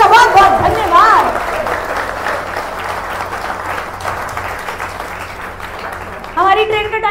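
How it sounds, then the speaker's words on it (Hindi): Loud applause from an audience at an RCM network-marketing meeting, steady clapping under a voice and a hum, with a louder burst near the end. "पूजा मैडम के लिए गुलाब जी बोलेंगे जोरदार तालियां"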